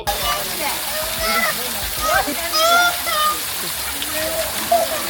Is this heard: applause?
no